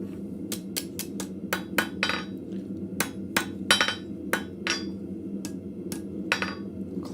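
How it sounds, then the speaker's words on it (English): A blacksmith hammers metal on an anvil to straighten it at a forge, striking sharp ringing blows in quick irregular runs with short pauses, loud and close, with no voices. "I'll take it to the anvil to straighten it."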